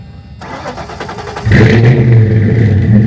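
A Ford Fox-body 347 V8 with Magnaflow exhaust cranks and catches, then revs up loudly with a deep, throaty exhaust rumble that holds at a strong, steady roar.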